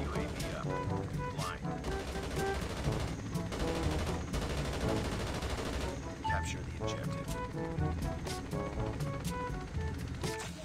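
Helicopter gunfire from a Chopper Gunner killstreak in a Call of Duty multiplayer match: dense, continuous bursts of shots and impacts crowd the whole stretch, loud and close, with voices talking underneath.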